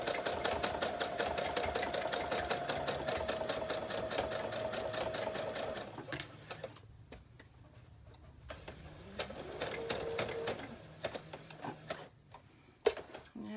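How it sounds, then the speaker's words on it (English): A sewing machine runs steady straight stitching along the top edge of a fabric journal pouch, its fast mechanical ticking continuous at first, then stopping and restarting in shorter bursts with brief pauses between runs. "And I'm just going to use a straight stitch, I think, for this one."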